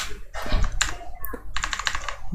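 Rapid clattering keystrokes on a computer keyboard while writing React JS code, a quick irregular run of sharp clicks with faint background talk.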